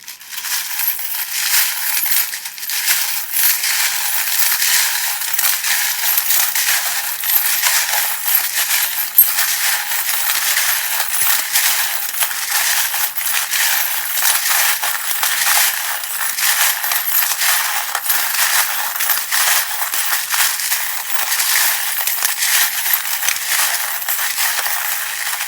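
Continuous crisp papery shuffling of tarot cards, a steady rustle and riffle running without pause for the whole stretch, fairly close and moderately loud.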